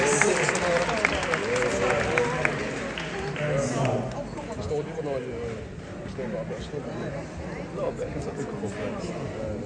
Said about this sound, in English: let's give a big round of applause to Auntie Debbie